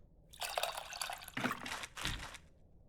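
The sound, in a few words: mixing tamarind with water in video game Venba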